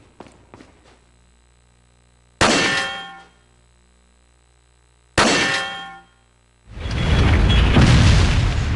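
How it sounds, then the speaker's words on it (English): Clock tower lever being turned in Resident Evil 4: a few light metallic ticks, then two loud ringing clangs several seconds apart that decay slowly, followed by a sustained rumbling roar of machinery. "Of course I want to turn the lever!"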